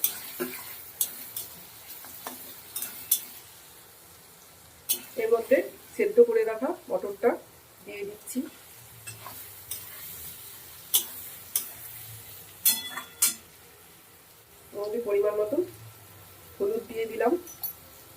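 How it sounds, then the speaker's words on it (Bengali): Tomato and coconut with dry-roasted spices are stirred in a pan for ghugni masala, giving soft, intermittent scraping and a light sizzle close by, while a voice speaks at times over it. "হালকা ভাজা হয়ে গেল টমেটো আর নারকেলটা এবার ড্রাই রোস্ট করা মশলাটা এবার দিয়ে দেবো"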